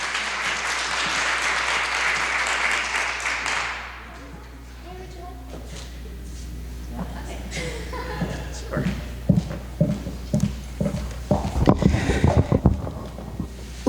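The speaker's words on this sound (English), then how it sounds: "Let's give Second Lady Fetterman another round of applause." Audience applause at a census town hall meeting in Erie County, a dense burst of clapping that fills the room and then fades, followed by shuffling, thumps and talk.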